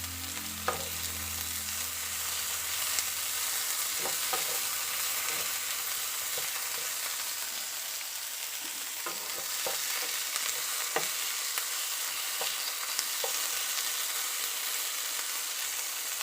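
Garlic, onion and tomato sizzling steadily in a pan, a close, even frying hiss broken by occasional clacks of a spoon stirring.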